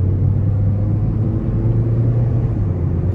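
A 2012 Honda Civic LX with a naturally aspirated 1.8-litre four-cylinder pulling away on the road, a continuous low engine hum and cabin rumble with a steady tone, fairly loud and unbroken, no voices.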